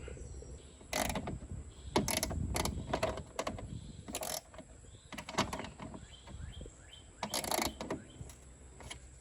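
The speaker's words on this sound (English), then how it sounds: "or just a good old socket wrench will do the trick" Socket wrench working a fuel tank bolt on a Cub Cadet Z-Force L zero-turn mower, heard as a run of irregular ratcheting clicks in short bursts close to the microphone, with no talking.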